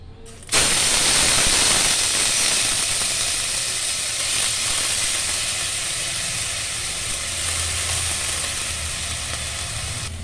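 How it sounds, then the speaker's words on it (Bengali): Grated potato hits a teaspoon of hot oil in a pan and erupts into a loud, close, continuous sizzle that holds steadily and fades only slightly over ten seconds. "আলুটা হালকা ভাজা হয়ে গেছে"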